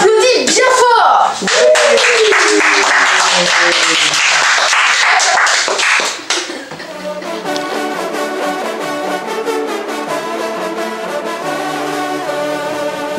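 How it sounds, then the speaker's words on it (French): An audience of elders claps loudly and steadily for several seconds, mixed with some voices, before the applause gives way to music for the rest of the clip. "Et vous, les anciens, avec nous, on applaudit bien fort."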